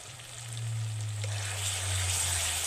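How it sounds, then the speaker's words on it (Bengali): Ground chilli, Kashmiri chilli and cumin powders frying in oil, giving a soft, steady sizzle that swells slightly partway through, close but fairly quiet, over a low droning hum with no voices. "গুঁড়ো মশলাগুলো দিয়েছি, তেলে 1 মিনিট মতো নেড়ে নেব"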